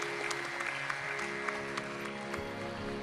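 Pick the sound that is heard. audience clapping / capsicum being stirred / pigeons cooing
audience clapping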